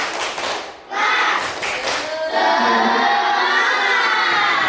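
Schoolchildren in a classroom do a rhythmic spirit-clap chant, a group of young voices shouting together with bursts of clapping and excited cheering, loud and close, with a brief pause before the final sustained shout.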